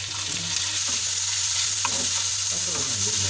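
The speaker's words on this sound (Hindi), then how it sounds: "आपने बस हल्का सा प्याज को हमने इसके अंदर फ्राई करना है।" Onions sizzle alongside goat liver on a hot tawa, a steady close frying hiss with occasional stirring scrapes throughout.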